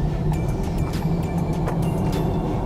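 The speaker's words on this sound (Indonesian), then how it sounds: "Nih, turbo masuk udah RPM 3000." A Honda Civic RS sedan's turbocharged engine pulls up through about 3000 rpm while driving, a steady low drone with a turbo whistle and faint higher hiss, heard from inside the car without talk.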